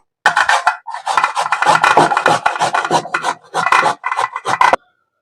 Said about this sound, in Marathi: आता आपण बारीक किसून घेऊया